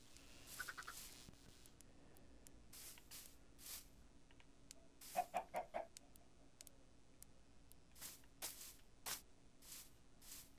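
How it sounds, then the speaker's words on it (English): A chicken in a survival video game clucks in short bursts against a quiet backdrop, faint and intermittent, with a brief cluster of louder clucks in the middle. "Did you just kill an innocent chicken?"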